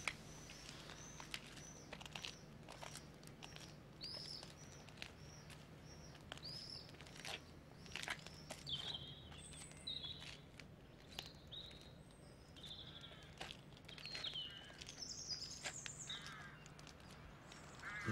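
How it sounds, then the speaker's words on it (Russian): Crows caw and other birds call repeatedly at a distance on an evening outdoors as they fly up to roost, a scattered, faint chorus with no talking. "Уже птицы в последний раз, наверное, взлетают в небо, чтобы устроиться на ночлег. Они, кстати, очень шумливы."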